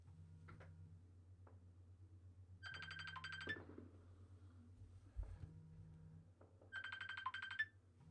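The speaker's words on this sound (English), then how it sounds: "Sorry, it's my phone in the background." A phone ringtone sounds in the background in two bursts of bright electronic trilling a few seconds apart, fairly faint under a steady low hum, with soft ticking between the rings.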